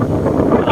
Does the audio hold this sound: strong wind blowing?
yes